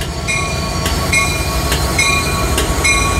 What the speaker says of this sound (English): It is weird seeing two coaster engines on one train